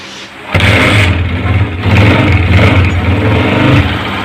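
A Honda CG 125 motorcycle engine fires up after a brief crank, then settles into a loud, close, steady running chug, with no talking.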